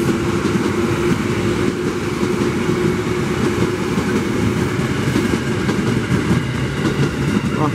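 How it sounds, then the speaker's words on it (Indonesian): KRL electric commuter train passing a JR 205 series train on the line, a constant loud rumble and rattling roar of rolling cars with faint clickety-clack throughout, no voices. "Papasan dengan JR 205 nih."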